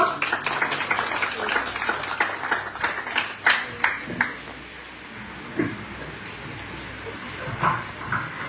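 Applause at a school poetry recitation competition welcomes the next participant: many hands clap in a lively, irregular patter that thins out midway, with scattered claps continuing faintly toward the end.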